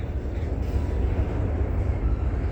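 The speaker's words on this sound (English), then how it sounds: "It is a manifest auto rack train, I tell you right now." A manifest autorack freight train rolls past trackside at night, a steady loud low-pitched rumble of rail cars with constant wheel noise and no pauses.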